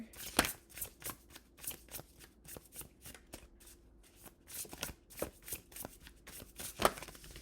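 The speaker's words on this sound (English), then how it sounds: "that was a sloppy shuffle" Rapid riffling and flapping of tarot cards being shuffled, in irregular bursts of crisp papery clicks over several seconds, close and fairly quiet.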